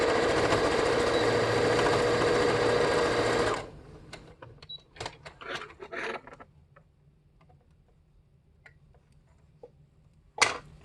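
A sewing machine runs fast and steady while stitching pleats on a medical mask, then stops, leaving scattered clicks and handling taps, with one sharp knock near the end.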